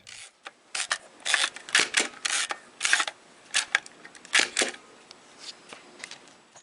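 Hasselblad medium-format camera mechanism with its film back fitted and dark slide removed, giving a run of crisp mechanical clicks and rasping clunks at close range, irregularly spaced, with no talking.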